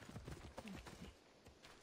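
A called horse trotting up in Assassin's Creed Odyssey, quick clip-clopping hoofbeats that come in close and then thin out, quiet and with no talk.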